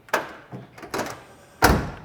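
A few solid thunks of a 1969 Chevrolet Camaro convertible's door being worked, with a final heavier thud as it shuts, close by and without talk.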